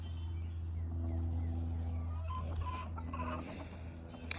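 Hen of a Rhode Island Red and gold-laced Wyandotte cross clucking softly outdoors, a few faint, scattered clucks over a low steady hum, no talk.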